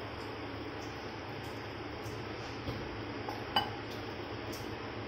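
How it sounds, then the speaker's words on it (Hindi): Powdered sugar and oil being mixed in a bowl for a rasmalai cake batter, giving a steady soft scraping with a few light clinks of utensil against the bowl, fairly close and without talk. "अच्छे से मिक्स कर लेंगे हम।"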